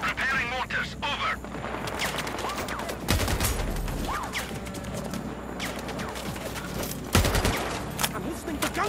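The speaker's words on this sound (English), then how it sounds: "I'm listening to gunshots here." Rapid bursts of rifle and machine-gun fire in the sniper video game Sniper Ghost Warrior Contracts, with a few heavy booming shots standing out over a steady crackle of distant fusillade and muffled radio-style voices.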